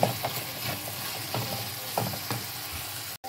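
A dish fries in a pan with a steady, moderately loud sizzle, marked by soft periodic stirring scrapes and a brief drop just before the end, with no talking.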